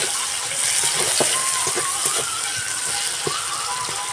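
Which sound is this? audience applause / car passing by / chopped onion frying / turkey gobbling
chopped onion frying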